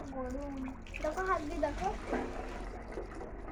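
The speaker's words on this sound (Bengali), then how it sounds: "এখনও নলে টাইম কলের জল পড়ে যাচ্ছে দেখবি চল তো এখনও জল পড়ছে দেখ এগুলো গরম জল" Hot water pouring steadily from a tap, a continuous rushing flow with a child and an adult talking over it throughout.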